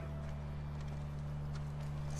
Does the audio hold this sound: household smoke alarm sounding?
no